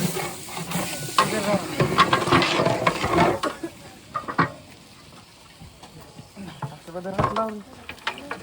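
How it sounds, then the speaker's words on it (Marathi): Dry mutton tipped into a large pot for a big-batch mutton dhavara and stirred, giving scraping, clattering and sizzling bursts, with a few voices in the background. "आता सुक मटण टाकून देऊया"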